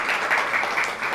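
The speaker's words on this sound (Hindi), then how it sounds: "ज़ोर से तालियां हो जाए।" Applause at a Women's Day event, a brief, dense burst of audience clapping heard as a continuous bright hiss of many hands at moderate volume.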